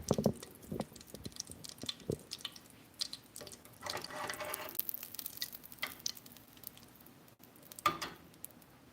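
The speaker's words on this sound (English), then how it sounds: "all of the butter is starting to foam" Butter foaming and browning in a pot gives a soft, steady crackle and fizz at moderate level, broken by a few sharper clicks and taps, with no talking.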